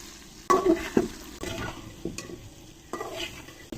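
Okra (bhindi) frying in a pan: a low, continuous sizzle broken by spoon stirs and several sharp scrapes and knocks against the pan, close-up, with no voices.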